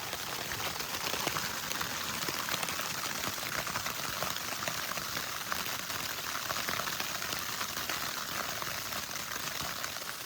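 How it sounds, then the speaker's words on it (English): Dense, steady pattering of hail striking a tent, a continuous hiss of countless tiny impacts that holds at the same level throughout, close and enveloping with no voices. "It is hailing."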